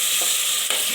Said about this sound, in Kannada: ಇದಕ್ಕೆ ಟೊಮೊಟೊ ಹಾಕ್ಕೊಳ್ಳಿ. 2 ಟೊಮೊಟೊ ಹಾಕಿದ್ದೀನಿ. ಚೆನ್ನಾಗಿದು ಎಣ್ಣೆ ಬಿಡೋ ಥರ ಬೇಯಿಸಬೇಕು.